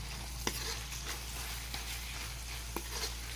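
Butter sizzles steadily in a pan with shredded chicken pastil, a constant close frying hiss broken by a few soft stirring scrapes and taps, with no voices.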